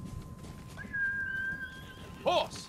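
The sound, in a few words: horse neighing in the video game Ghost of Tsushima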